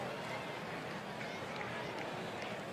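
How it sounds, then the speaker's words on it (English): Crowd noise from the baseball video game OOTP Baseball 21 forms a dense, steady stadium roar and murmur that fills the whole clip at a fairly loud level. "Crowd noise is a little loud."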